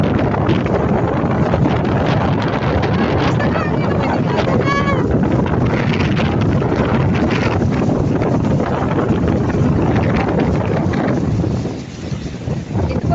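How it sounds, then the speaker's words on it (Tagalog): Strong, steady southwest monsoon wind roars and buffets the microphone, with a broad wash of sea waves beneath it; the gusts ease briefly near the end. "Lalaki ng alon sa hangin habagat."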